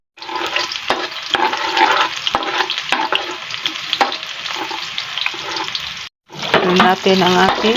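Chopped onion sautéing in cooking oil for pork with Chinese cabbage: a steady sizzle with scraping stir clatters, a brief pause near the end, then frying resumes while a voice talks intermittently.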